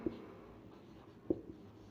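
A teacher writes on a board during a geometry lesson: two faint taps and short scratchy strokes about a second apart, quiet against a soft room hum.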